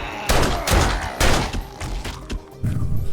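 Gunfire in the survival game 7 Days to Die, several loud close shots and thumping impacts in quick bursts across the whole stretch, with a voice briefly audible among them.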